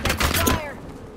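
A brief burst of rapid gunfire in the battle royale shooter Apex Legends, loud and close for about half a second, then fading into a whooshing tail.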